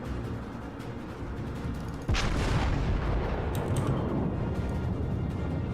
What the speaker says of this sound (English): I shot one salvo.